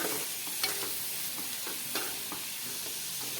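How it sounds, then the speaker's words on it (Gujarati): A spoon stirs chopped vegetables in a hot pan, making a soft continuous sizzle punctuated by regular scraping and tapping strokes. "હવે બધી વસ્તુને સારી રીતે મિક્સ કરી દઈએ."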